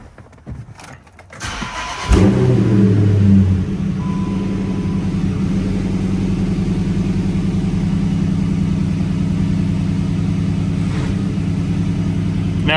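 A car engine cranks and catches, with a loud burst as it fires, then settles into a steady, even idle that carries on alone, close by, after some brief clicks and rustling beforehand.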